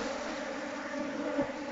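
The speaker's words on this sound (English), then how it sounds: "Now that the bees are out the way." Honeybees hum in a steady, even drone around an open hive during an inspection of frames with capped swarm cells, fairly faint and continuous with no voices.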